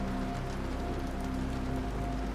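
Steady rain falling close by, a dense even patter with no pauses from start to finish.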